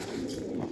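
Pigeons at a home loft give a brief, low cooing murmur, close and steady.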